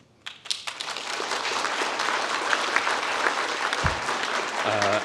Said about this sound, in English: A big round of applause for the Privacy Day 2025 coordinating team.